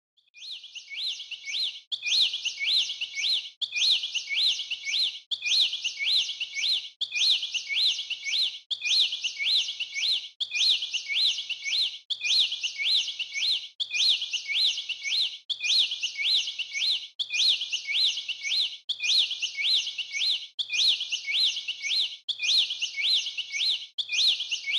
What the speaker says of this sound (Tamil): இப்போ வந்து அது குருவி கூடு கட்ட ஆரம்பிச்சிருக்கு